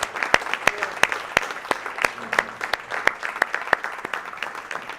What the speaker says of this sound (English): we clapped too early